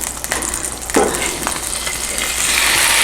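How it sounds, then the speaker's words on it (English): Steady frying sizzle of sliced sirloin beef in hot oil, a broadband hiss that jumps up with a sharp burst about a second in and keeps crackling. "when you hear the sizzle,"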